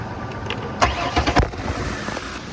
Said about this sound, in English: Let's give it a crank. See what it sounds like.